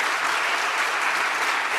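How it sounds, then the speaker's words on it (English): Dense, even applause from a conference audience at an immunotherapy meeting in Argentina, a steady wash of many hands clapping without pause, with no speech over it. "Y un aplauso también muy grande quisiera para todo mi equipo."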